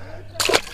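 A bass released back into the water after being caught while fishing after a heavy rainstorm, one short, close splash lasting a fraction of a second over quiet background.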